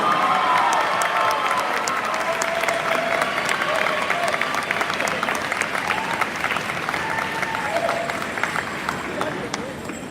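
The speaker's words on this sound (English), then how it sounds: "a round of applause for Dominic Whitaker" A large high school graduation crowd applauds steadily for a graduate, a broad, sustained wash of clapping with scattered cheers and murmuring voices, loud and close throughout.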